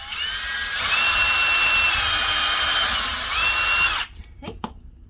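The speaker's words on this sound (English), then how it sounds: "I am going to drill right in the center there" Power drill bores into wood for a homemade plant stand, a steady loud whirring grind for about four seconds with a couple of speed changes, then cuts off to quiet with a few faint knocks.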